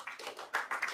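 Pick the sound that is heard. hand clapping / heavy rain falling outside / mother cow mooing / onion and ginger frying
hand clapping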